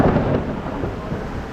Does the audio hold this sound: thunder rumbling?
yes